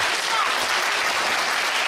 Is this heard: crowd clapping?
yes